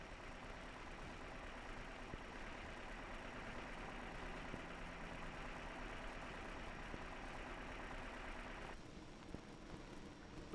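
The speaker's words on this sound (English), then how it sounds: "The busy tug is hooked onto the loaded cart. The tug will pull the cart of cargo to the freight terminal." A 1952 airport cargo tug's engine idles at a low, steady rumble, moderately distant and even, before the sound thins out near the end.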